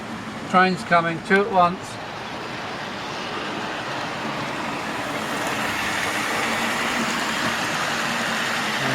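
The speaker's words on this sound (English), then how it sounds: "oh, train's coming" A model railway train runs on a loft layout, a steady mechanical hum and rumble that swells gently and continues to the end, following a few quick spoken words at the start.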